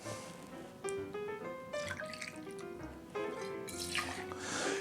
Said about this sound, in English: So we're gonna start off with 2 ounces of Cool Blue Vodka.